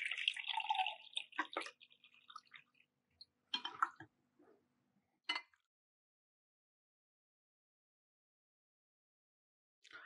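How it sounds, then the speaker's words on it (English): Water poured into an SRV inline viscosity meter makes a few close splashing and dripping bursts in the first five seconds, then falls silent before a brief final trickle. "let's pour some water."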